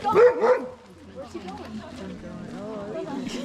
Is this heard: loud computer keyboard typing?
no